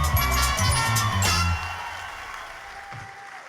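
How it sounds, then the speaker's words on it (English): Audience applause at a charity wig event, loud clapping at the start that fades after about a second and a half, with a single voice briefly heard over it. "Let's give them a round of applause"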